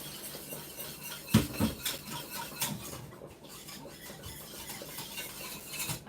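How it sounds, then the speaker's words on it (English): Metal whisk stirring Tom Brown porridge in a cooking pot, a soft continuous scraping and swishing with a few sharper clinks near the start, close and fairly quiet, with no talking. "I'm using a whisk because I don't know. I find it much better using a whisk"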